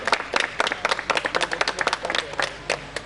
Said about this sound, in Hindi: काम शुरू करने के लिए जोरदार तालियों से स्वागत है।